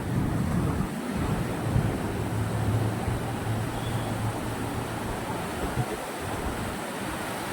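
Sea waves surge and wash at Ghoghla beach in a steady, fairly loud broadband roar with wind buffeting the microphone. No voices are heard.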